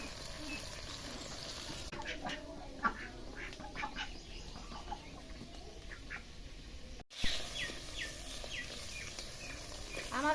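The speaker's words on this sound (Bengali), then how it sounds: "আমার হাঁসের ঘর আছে হাঁস আছে" Domestic ducks quack in short, scattered bursts at a moderate distance near their duck house, over a low background murmur with faint water and bird chirps.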